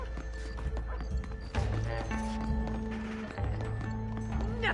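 Hooves clip-clop at a brisk pace amid Red Dead Redemption game sound effects and music tones, with a horse's whinny breaking through briefly.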